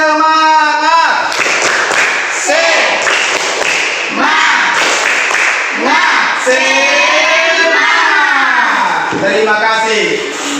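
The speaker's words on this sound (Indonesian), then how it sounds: "sebelum kita lanjutkan pembelajaran kita tepuk semangat dulu" A school class performs the tepuk semangat clapping routine, a rhythmic series of claps mixed with children chanting and voices loudly throughout.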